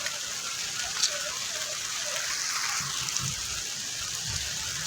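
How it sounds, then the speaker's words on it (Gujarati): Steady rain falling outdoors, a continuous even hiss of drops at moderate level with no pauses and a few faint low knocks underneath. "આવી રીતે અહીંયા વરસાદ ચાલી રહી છે।"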